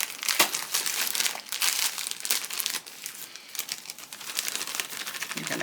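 A plastic bag of marshmallows being torn open by hand, giving continuous loud crinkling and ripping of the plastic close up, with no talk.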